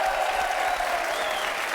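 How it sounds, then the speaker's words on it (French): Steady, dense applause from a television game show studio audience, loud and continuous throughout. "Alors qu'on peut applaudir nos hôtesses qui arrivent là"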